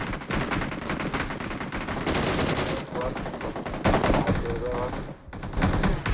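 Rapid automatic gunfire from PUBG Mobile rattles in dense, sustained bursts with brief gaps, loud and close, while players talk over it.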